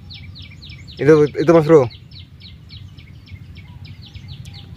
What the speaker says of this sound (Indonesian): itu burung perkutut lokal